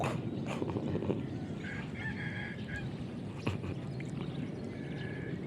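A rooster crows at a distance amid steady outdoor background noise and other faint bird sounds.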